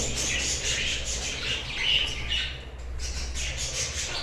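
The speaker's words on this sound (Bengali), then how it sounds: "আমার এখানে বিভিন্ন প্রজাতির পাখি আছে ককাটেল আছে বাজুরিকা আছে" Cockatiels and budgerigars at a bird farm squawk and chirp continuously, a dense, loud chorus of overlapping calls filling the whole stretch with no talking.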